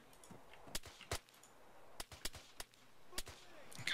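Pistol shots in ARMA 3, fired in an irregular series of sharp, separate cracks of moderate loudness over a quiet background.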